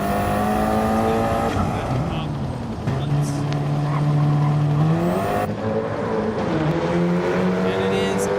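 A race car's engine pulls out of the pits at the Red Bull Ring in a sim racing game, revving up and shifting through rising harmonic sweeps at steady loudness while commentators talk over it.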